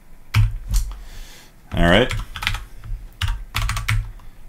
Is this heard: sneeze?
no